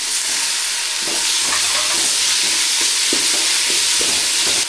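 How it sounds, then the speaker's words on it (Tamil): Onions with ginger garlic paste and salt sauté in hot oil for a village-style chicken curry, a steady bright sizzle with repeated rhythmic scrapes of a spoon stirring the pan, and no talking. "வெங்காயம் வதங்கிறதுக்கு கொஞ்சம் உப்பு சேர்த்துக்கலாம் இது கூட இஞ்சி பூண்டு பேஸ்ட்டு சேர்த்துக்கலாம்"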